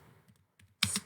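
A single crisp click of a computer mouse during a PowerPoint screen recording, short and close after a few faint taps in near silence.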